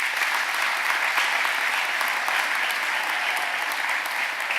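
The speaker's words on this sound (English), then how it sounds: "I definitely think he deserves another round of applause for what he's done for the city." Sustained applause from an audience at the launch of a middle school basketball league, a dense, steady wash of clapping that holds at an even level for several seconds with no talking on top.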